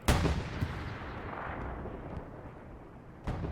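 Artillery fire in the World War II video game Hell Let Loose, a loud close boom at the start rolling into a long fading rumble, then a second blast near the end.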